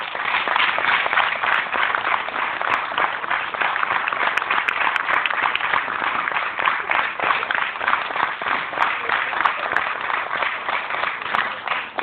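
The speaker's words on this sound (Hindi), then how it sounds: "सभी के वेलकम के लिए साथियों जबरदस्त तालियां हो जाए" An audience applauds continuously and loudly to welcome members onto a stage, a dense unbroken wash of clapping from many hands that holds steady from start to finish.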